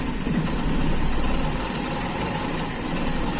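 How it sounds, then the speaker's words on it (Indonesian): A motorcycle engine with an Aisan carburetor idles steadily and close by with a constant low rumble, running on a lean mixture, with no talk over it. "sepertinya udah masuk bensinnya ke bak karbu, tetapi stasionernya berubah"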